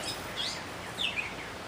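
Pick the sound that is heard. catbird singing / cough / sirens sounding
catbird singing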